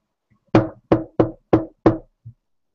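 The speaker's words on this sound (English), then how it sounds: "decides to knock on the front door" Five firm knocks on a front door, evenly spaced and close by, followed by a faint sixth tap, with no talking.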